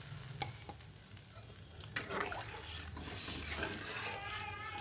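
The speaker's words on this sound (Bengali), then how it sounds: "এই পর্যায়ে আমি দিয়ে দেব পরিমাণ মতন জল" Water poured into a pan of sizzling fish curry masala with oil, a loud frying hiss with stirring scrapes and a sudden splash surge, bubbling steadily afterward.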